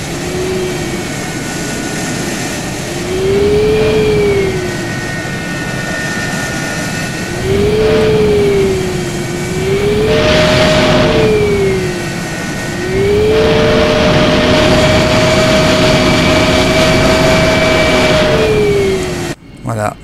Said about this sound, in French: Faire les essais moteurs.